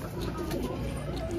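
Green dobaaz pigeon with a white tail cooing in a low, steady murmur, close by, alongside other pigeons.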